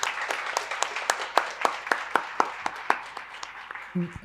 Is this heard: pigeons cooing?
no